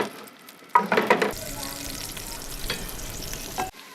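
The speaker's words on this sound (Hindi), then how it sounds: "प्याज को हमने खूबसूरत सा ब्राउन कर लेना है।" Onions frying in about five to six tablespoons of oil until brown for a beef pulao, a burst of loud sizzling and stirring at first that settles into a steady, softer crackle.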